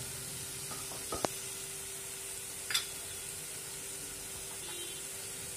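Pabda fish frying in a pan makes a steady, even hiss of hot oil close by, with a faint constant hum and a few brief clicks and taps of a utensil.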